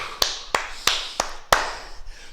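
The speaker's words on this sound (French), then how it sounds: "Et on s'applaudit la gang." A small group in a kickboxing class claps together, five sharp separate claps spaced about a third of a second apart, close and clear, then fading out.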